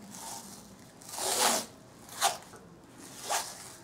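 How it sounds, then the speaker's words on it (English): Cloth tape is pulled off the roll and wrapped around a mare's tail in three separate ripping bursts, each one close and fairly loud, with quiet moments between them. "This cloth tape, you're right. It's kind of scaring her. And tape this to her."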